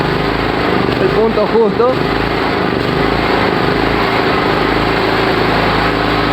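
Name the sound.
gas-powered electric generator engine running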